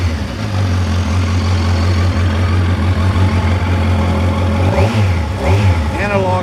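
Inline four-cylinder engine of a 2020 Kawasaki Versys 1000 LT SE motorcycle running steadily with a smooth low drone close by, swelling into a couple of quick revs near the end.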